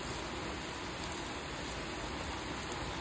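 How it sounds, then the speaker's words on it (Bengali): Heavy rain pours steadily outside, a dense, continuous hiss that stays loud and even throughout with no voices. "বাইরে ভীষণ জোরে বৃষ্টি হচ্ছে, মানে অতিরিক্ত বৃষ্টি হচ্ছে বাইরে"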